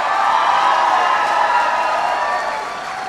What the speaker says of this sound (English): Give the Lieutenant Governor a big round of applause